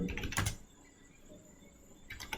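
Quick bursts of keystrokes on a computer keyboard as a pip install command is typed at a Windows command prompt, clattering near at the start and again at the end with a quiet pause between.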